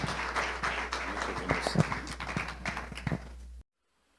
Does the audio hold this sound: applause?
yes